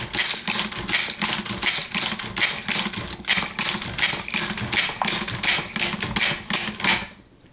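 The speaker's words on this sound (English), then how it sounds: "Slowly and methodically, you're going to turn the crank handle and load the belt." A Browning machine gun belt loader cranked by hand, a steady rapid mechanical clatter of cartridges being seated, close and continuous, stopping near the end.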